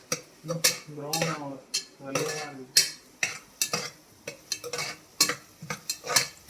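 Food sautés in a pan until brown, with rhythmic clacks and scrapes of a spoon against the pan over a faint sizzle, while a voice is briefly heard alongside.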